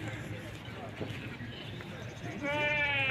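Sheep bleat at a busy weekly livestock market in Sidi El Aidi, Settat province, Morocco, with one clear close bleat at the end over a steady murmur of crowd noise and voices.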